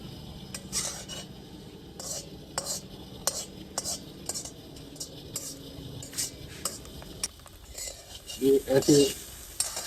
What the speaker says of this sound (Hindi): वक्फे वक्फे से इसको, चम्मच को हिलाते रहें।